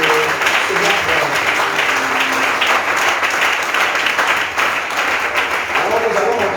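A church congregation breaks into loud, sustained applause and cheering that fills the whole stretch without pause, dense and close, with some voices mixed into the clapping.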